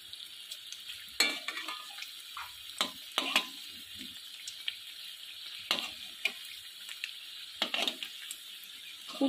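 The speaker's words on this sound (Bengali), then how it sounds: "এবার এই দিকটাও ভেজে নেব।" Taro peel fritters fry in a pan over medium heat, a steady sizzle broken by several sharp clatters and scrapes as the fritters are stirred and turned, with no talking.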